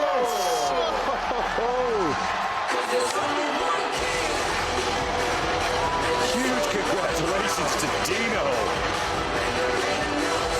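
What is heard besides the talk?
arena crowd cheering at Mr Olympia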